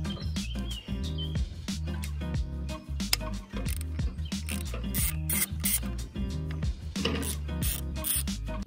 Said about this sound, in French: c'est venir dévisser ici pour enlever le filtre à huile qui est dans ce petit compartiment